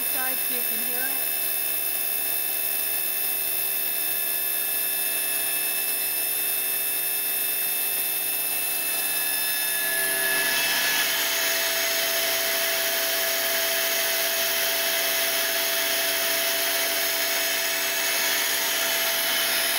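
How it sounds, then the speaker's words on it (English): A Star SB16 CNC Swiss lathe with high-pressure coolant runs on its main spindle side, giving a steady mechanical whine with tonal hums, growing into a louder hissing wash partway through. "On the main spindle side so you can hear it."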